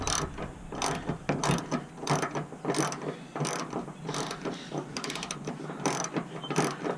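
A ratchet clicks in rapid bursts while unscrewing a 10 mm headlight screw on a 2008 Pontiac G6, close and fairly quiet, with short pauses between the runs of clicks.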